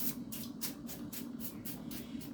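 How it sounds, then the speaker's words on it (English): Short hissing bursts of oil spray are squirted onto salmon in an air fryer, about eight quick puffs in a steady rhythm, close but faint. "I'm going to spray this side with oil."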